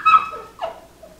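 A small long-haired Chihuahua mix gives two short high whimpers close by, the first brighter and the second dropping in pitch, followed by a faint trailing whine.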